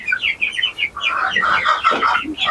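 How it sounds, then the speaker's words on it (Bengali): Tiger breed chickens on a poultry farm in Chattogram give a quick run of close, clucking and squawking calls that overlap one another, with no talk. "এগুলো হচ্ছে আমার টাইগার মুরগির গুলো যেগুলো থেকে আমি বীজ ডিম নেই"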